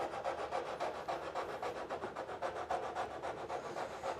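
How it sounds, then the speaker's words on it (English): Hand rasp filing wood in quick, even back-and-forth strokes, a steady scratchy rhythm of roughly ten passes close up, with no other sound. "What I like about the rasp is it is slow, and it allows you to really sneak up on the fit."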